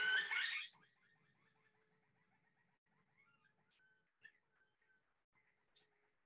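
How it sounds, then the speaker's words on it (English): A loud burst opens the clip. It is followed by the faint, drawn-out call of a long-billed woodcreeper in the Peruvian Amazon: a long run of repeated whistled notes at a steady pace, with a few sharper notes. "long-billed wood creeper."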